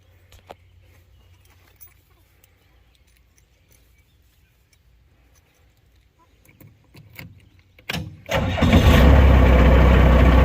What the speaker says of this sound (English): Fires right up every single time.